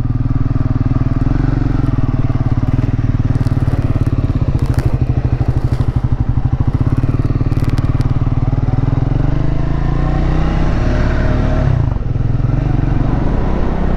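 Triumph Scrambler 400X motorcycle being ridden, its engine droning loud and close throughout with steady rumble, rising revs and wind rush, a brief clattering burst midway and a shift in tone near the end.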